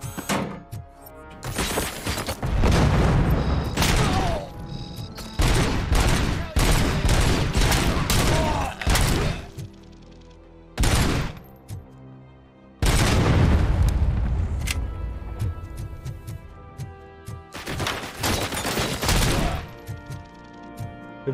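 Loud, rapid bursts of gunfire in the video game Robocop: Rogue City crackle in repeated volleys with brief pauses between, sharp and close, alongside some faint speech.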